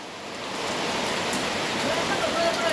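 Steady rain falls on a village home during the monsoon, a dense even hiss of drops on surfaces that swells slightly and holds throughout.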